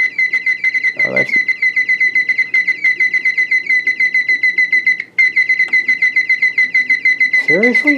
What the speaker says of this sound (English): That's the electronic alarm.